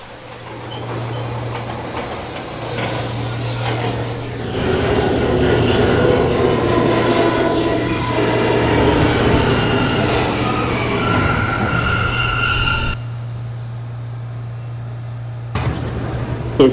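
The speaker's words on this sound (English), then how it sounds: "Is a 168th Street bound C local train." A C local subway train runs through the 42nd Street station in New York, its loud rumbling and clattering rolling on steadily, then cutting off sharply near the end before a brief burst returns.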